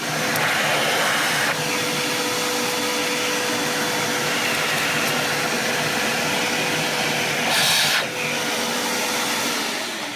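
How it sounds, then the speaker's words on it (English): Vacuum cleaner running continuously close by while cleaning out a Gaggia Brera coffee grinder, a loud steady whooshing hum with a brief pitch change midway and a short surge near the end. "then we'll get a vacuum cleaner"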